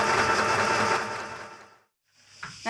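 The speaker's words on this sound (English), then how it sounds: "you've just got to stitch all the way down there" A sewing machine stitches a centimetre seam down the middle of a garment, a fast steady mechanical whir that slows to a stop, pauses, then restarts briefly, close and without talk.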